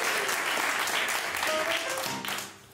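A studio audience at a Dutch late-night radio show claps in a burst of applause that fades out, with voices briefly heard over it.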